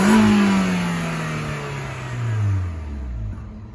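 A 2003 MG ZR hatchback's 1.4 petrol engine revved up and then easing back down, the pitch climbing briefly before falling steadily, heard close and fairly loud outdoors.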